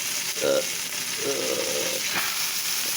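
Meat sears in a hot pan with a continuous, even sizzle and hiss, close and steady, with a couple of brief faint sounds of movement in the pan.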